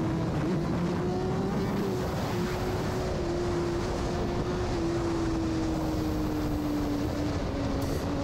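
A BMW S1000RR motorcycle engine runs steadily and loud throughout, a sustained droning tone holding nearly constant pitch with a slight fall near the end, as if heard from a riding position with wind noise.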